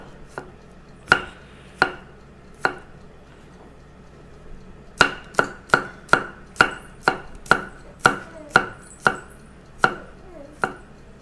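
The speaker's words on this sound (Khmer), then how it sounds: "ឥឡូវយើងមកហាន់ខ្ទឹមសយើងហាន់ជាប្រទេសអញ្ចឹងដែរ" Garlic chopped thinly with a knife on a board for a Cambodian roast fish dish: sharp, loud close-up knife strikes, a few spaced chops, then a pause and a steadier run of about a dozen even cuts.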